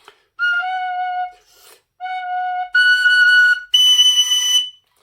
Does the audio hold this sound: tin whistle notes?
yes